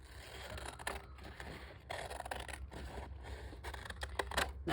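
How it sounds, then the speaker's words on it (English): Scissors trimming fragile sheet music paper, a series of close, soft snipping and scraping cuts repeated over a few seconds with quiet handling in between. "I'm just going to trim this with my scissors."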